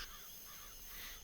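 Crows caw softly in an eerily quiet outdoor scene, the rough calls faint and distant over a thin steady insect-like hiss.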